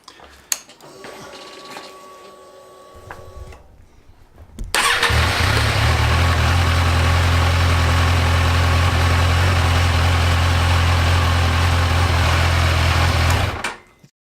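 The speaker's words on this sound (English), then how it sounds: "Now you can fire it up." A Kawasaki Ninja 1000 motorcycle engine cranks and catches after a few seconds of quiet workshop noise, then settles into a loud, steady idle that runs close by until it shuts off abruptly near the end.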